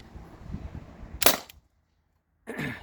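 T4E TR50 air gun powered by an HPA tank firing a 2.8 gram aluminum ball, one sharp loud crack after a stretch of background noise, then near silence and a short burst of room sound.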